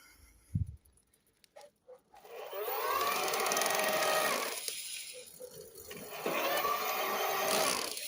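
A Bosch Gen 4 mid-drive e-bike motor whines as it assists pedalling in the first assist mode, rising in two sustained bursts after a few quiet clicks, close and moderately loud.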